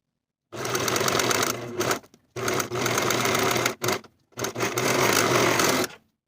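A sewing machine runs steadily in three sustained bursts separated by short pauses while stitching the curved edge of a denim jacket pocket, with a loud, close, even mechanical hum throughout.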